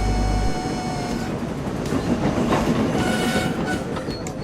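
A runaway train rolls along the rails with a loud, continuous rumble and rhythmic clattering of wheels, near and steady throughout, with no voices.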